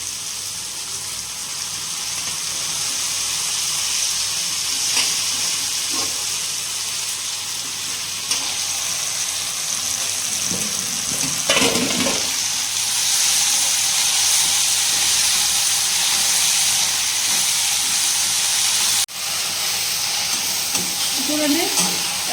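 Gongura leaves frying in a pan with onions, curry leaves and green and dried red chillies give a loud, steady sizzle and hiss with occasional stirring scrapes throughout.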